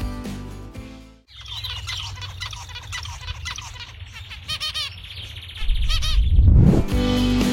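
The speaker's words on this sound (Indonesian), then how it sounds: "ada 2 jenis burung zebra finch" A zebra finch sings up close, a busy run of short chirps, buzzy squawks and repeated rapid notes after a brief pause, ending as a low rumbling swell rises beneath the song.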